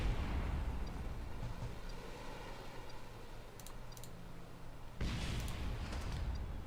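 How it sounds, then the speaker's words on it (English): Muffled booms and rumbling explosions from an aerial dogfight in Kerbal Space Program, with a sharper burst of gunfire and blasts near the end over a constant low roar. "Gunfire rains in."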